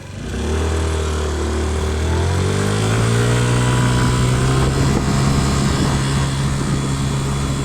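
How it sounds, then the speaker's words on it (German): A small motor scooter engine drones steadily as it picks up speed, its pitch rising and then holding as it rides along, loud and close. "Ich bin gerade auf dem Heimweg mit dem Roller."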